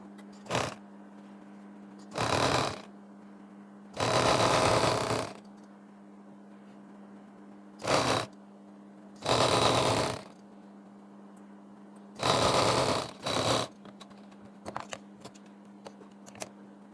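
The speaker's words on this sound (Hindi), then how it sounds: "ये मैं इसके ऊपर रखकर ऐसे स्टिच करूँगी" A sewing machine stitches a fabric strip onto a trouser in short, loud bursts of rapid mechanical whirring separated by pauses, with a steady low hum underneath.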